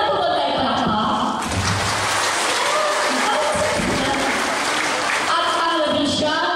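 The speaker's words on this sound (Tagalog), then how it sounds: "wala po ba tayo palakpak?" Applause from an audience at an early childhood daycare center event, a burst of clapping breaking out in the middle while a voice speaks over a PA before and after.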